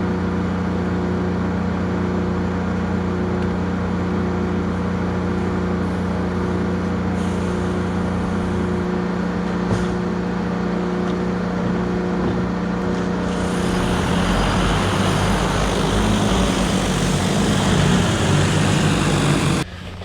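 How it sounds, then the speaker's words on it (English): A DJI drone flies over a field of standing beans, spreading wheat seed, giving a steady whining motor and propeller drone that grows louder and harsher near the end, with no talking. "what the heck's a drone doing out in my field?"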